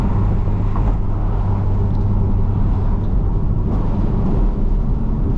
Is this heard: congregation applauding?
no